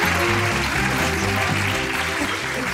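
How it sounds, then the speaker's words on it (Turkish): A crowd claps steadily under a dense, continuous wash of noise with tonal music or voices mixed in. "çok büyük alkış"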